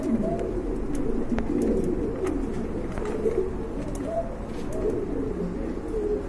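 Big, feather-footed quality pigeons coo steadily in soft, low, repeated rolls close by, with no voices and a faint background hiss throughout.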